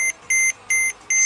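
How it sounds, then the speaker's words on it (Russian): A Mercedes-Benz ML 350 diesel's seatbelt warning chime beeps four times in an even, repeating pattern, clear and close, with nothing else audible. "Пищит. Потому что я сел, не пристегнулся."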